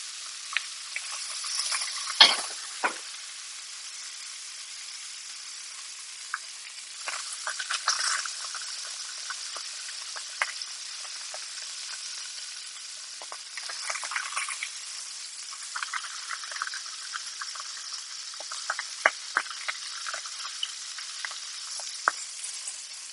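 Pork chops sizzle and crackle steadily in a hot frying pan, a soft, continuous spitting with scattered sharper pops, heard alone without any voices.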